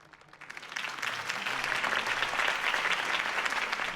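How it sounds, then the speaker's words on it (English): Crowd applause in the video game Batman: The Telltale Series, a steady wash of many clapping hands that rises quickly after a quiet start and holds loud and dense to the end, with no speech over it. "If only Mr. Wayne, my campaign's largest backer, could have heard that applause"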